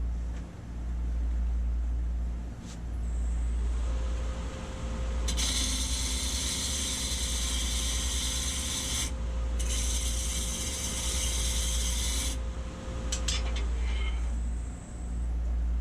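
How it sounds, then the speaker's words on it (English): Turning tool cutting a hardwood blank harder than hickory on a wood lathe for a segmented bowl, with two loud bursts of bright scraping and rasping over a steady motor hum, and no talking. "That cuts it pretty doggone good, actually."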